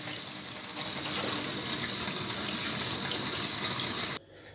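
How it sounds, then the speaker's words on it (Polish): Chopped leek rinsed under a running kitchen tap, a strong steady gush of water splashing for about four seconds before cutting off abruptly, close and without speech. "Teraz taką poszatkowaną porę musimy umyć pod bieżącą wodą."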